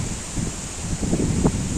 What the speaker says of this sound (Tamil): பாருங்கள் எப்படி காற்றோட சவுண்டு கேட்குதா?